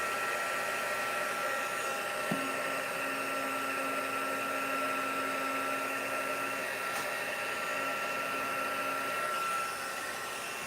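A heat gun blows a steady, loud airy whoosh while heat-setting paint on a garden craft piece, running unbroken with a faint tonal whine on top before easing slightly near the end.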